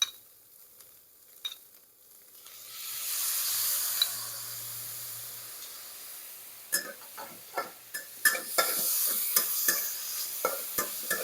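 Pickled cabbage tossed into a pan of fragrant fried garlic begins to sizzle loudly, followed by a series of rhythmic scraping stir-fry strokes against the pan under a steady hiss.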